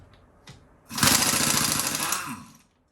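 A power tool, probably an impact wrench, removes lug nuts from the wheels of a 1968 Lincoln Continental. One loud, steady, hammering burst lasts about a second and a half, then stops abruptly.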